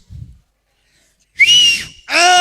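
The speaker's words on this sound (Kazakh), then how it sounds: "Кәне бір ысқыр жібеш" A person at a circumcision celebration whistles loudly, two sharp bursts close by, the second rich and shrill, after a brief low thump and a stretch of silence.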